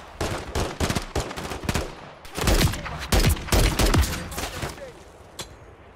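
Gunfire in Call of Duty Modern Warfare 3, with loud bursts of rapid shots and single cracks spread across several seconds, some close and some further off, mixed with other battle sounds.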